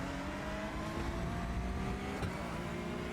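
A new Porsche GT3 race car in iRacing holds a steady, droning engine note at the Red Bull Ring, with an even, constant hum and sustained harmonic tones.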